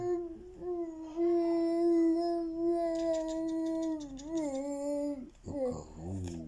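A voice imitates a jackal's howl with a long, sustained wavering call that rises and falls, followed by a shorter yelping tail, heard close and clear.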